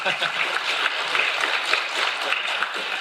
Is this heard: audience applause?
yes